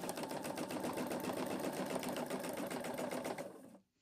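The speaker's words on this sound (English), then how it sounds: "Start by sewing the first line." A sewing machine stitches a line guided by a quilting ruler, a steady, fast mechanical whir of needle strokes heard close but soft, then stopping abruptly near the end.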